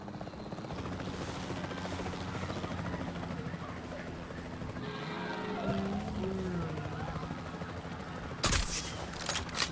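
A rescue chopper in the Jurassic World Evolution 3 game drones continuously with steady rotor thrum, joined near the end by sharp bursts of gunfire from the capture team; faint game voices sit low in the mix.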